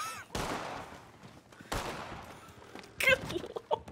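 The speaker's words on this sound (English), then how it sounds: "Did you hear that gunshot?" Gunshots in the Red Dead video game, set in the town of Valentine: two sharp, loud cracks about a second and a half apart, each trailing off in a long echo, followed by a cluster of short, quieter clicks.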